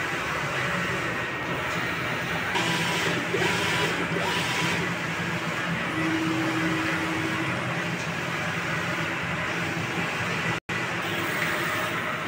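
A Sauyo 6 ft four-head sublimation printer runs a nozzle test, giving a steady mechanical whir and hum with faint tonal whines and brief shifts in motion, close and continuous without speech.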